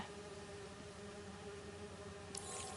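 Bees buzzing as a steady, dense drone throughout, fairly faint and continuous with no voices.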